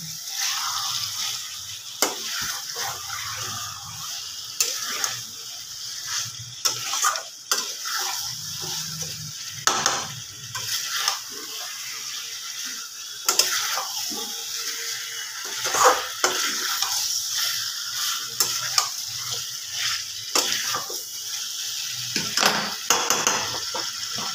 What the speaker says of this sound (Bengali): গ্যাসটা একটু বাড়িয়ে দিয়ে আবার আমি মাংসটাকে ভালোভাবে কষিয়ে নেব।